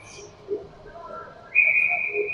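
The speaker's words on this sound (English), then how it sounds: "Whistle blows, play gets resumed." At a youth U12 field hockey game, a referee's whistle gives one sharp, sustained blast after a short lull with faint field noise.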